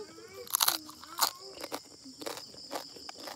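Crisp, crunchy bites into food, a few sharp crackling crunches close up, with quiet chewing between them and no talking.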